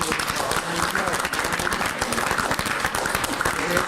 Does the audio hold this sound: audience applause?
yes